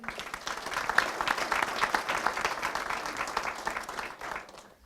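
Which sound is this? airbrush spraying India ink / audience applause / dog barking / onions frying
audience applause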